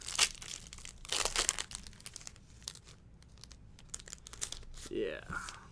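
Foil wrapper of a 1984 Topps hockey card pack crinkles and tears in several bursts at close range, with quiet chatter and gum-stuck cards being handled in between.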